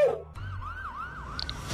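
An ambulance siren wails in a smooth rising and falling sweep, steady and fairly close, after a brief burst of other noise at the start.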